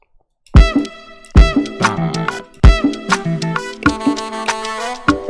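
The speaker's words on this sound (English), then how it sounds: "You can't go wrong with this clap." A beat with sharp, punchy clap hits landing on regular accents over kick and melodic notes, loud and rhythmic with no voices.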